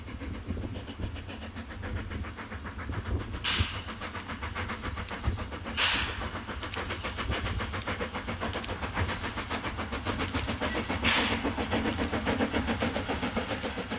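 Raging Roland steam train making a run past, a steady rumbling chug with breathy hissing exhaust that holds loud and even throughout, with brief bursts of steam at intervals.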